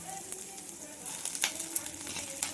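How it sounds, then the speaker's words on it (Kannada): Drumstick leaves frying in a pan make a faint sizzle with scattered soft crackles and a few light stirring scrapes. "ಜಾಸ್ತಿ ಏನು ಫ್ರೈ ಆಗೋದು ಬೇಡ, ಇಷ್ಟು ಫ್ರೈ ಆದರೆ ಸಾಕು."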